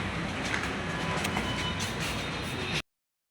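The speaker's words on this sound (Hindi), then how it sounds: "देखो हम मेट्रो स्टेशन पहुँच चुके हैं।" Steady, loud rumble of a metro train in a station, with broadband roar and faint metallic squeals, cutting off abruptly near the end.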